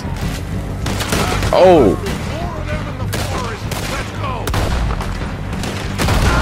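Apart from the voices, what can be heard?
gunfire in the video game Red Dead Redemption 2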